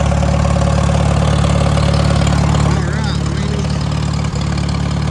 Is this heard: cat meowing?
no